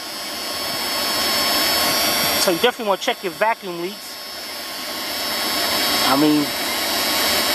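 A 2000 Dodge Ram Van B1500 engine idles with an idle control system malfunction (P0505), giving a loud, steady drone that runs through the whole stretch while someone speaks briefly over it.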